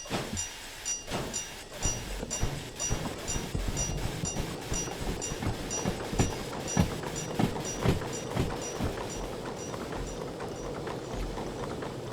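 An S282 steam locomotive in the game Derail Valley chuffs along in a steady, regular rhythm, each exhaust beat clear and close, with metallic clanks and rail noise underneath and no talk.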